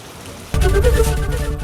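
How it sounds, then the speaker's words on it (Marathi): Pre-monsoon rain showers fall in Mumbai's western suburbs, starting abruptly after a brief quiet moment and continuing as a steady, fairly loud wash of rain with no voices. "अगदी सकाळच्या सुमारासच मुंबईमध्ये पावसाने हजेरी लावलेली आहे आणि मान्सूनपूर्व पावसाच्या या सरी बरसलेल्या आहेत"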